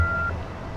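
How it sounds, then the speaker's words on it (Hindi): A single steady voicemail tone sounds briefly before a message recording begins, clear but short, fading out after a fraction of a second. "अगर आप वॉइस मैसेज छोड़ना चाहते हैं तो बीप के बाद अपना मैसेज रिकॉर्ड"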